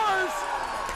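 A hockey crowd at a Ripley Wolves home playoff game roars after a short-handed goal, a loud sustained cheer with whoops rising over it, heard at close range throughout.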